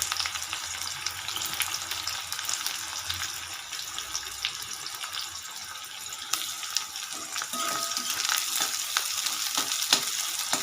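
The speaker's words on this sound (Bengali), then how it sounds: "পেঁয়াজটাকে ভালো করে ভেজে নেব" Two medium onions, thinly sliced, fry steadily in a pan with a continuous broadband sizzle and occasional light stirring scrapes, close and fairly loud throughout.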